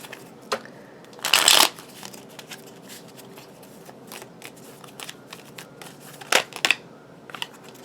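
Tarot cards shuffled by hand at a table during a reading, two short crisp riffling bursts separated by quiet stretches with light taps and handling clicks, close and clear, no speech.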